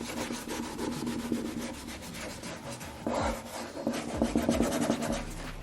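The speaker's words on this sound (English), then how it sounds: "So I take my rag and I go around the edges of the entire thing with pretty moderate pressure." A rag rubs and burnishes a decor transfer onto a chalk-painted piece with moderate pressure, producing close, repeated scratchy strokes in an uneven rhythm, fairly quiet and with no talking.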